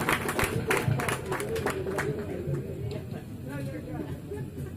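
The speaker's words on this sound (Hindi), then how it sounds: "समीर गुरु का तालियों से इस्तकबाल।" Audience at an Urdu mushaira clapping to welcome a poet to the mic, a burst of dense applause that thins out and tapers off, with voices in the hall.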